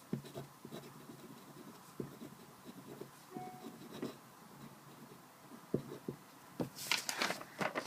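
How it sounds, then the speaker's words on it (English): A Jinhao X450 fountain pen scratches quickly across paper up close, giving faint, rapid rubbing strokes with small taps at a low level. "now I'm just going to do a little bit of quick writing and see if it skips at all"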